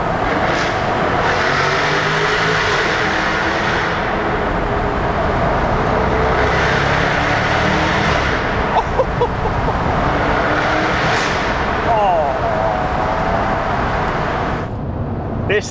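Jaguar F-Type R 2015 AWD engine in dynamic mode with exhaust valves open, a steady loud roar held in a low gear from inside the cabin, with faint wind noise and no talk.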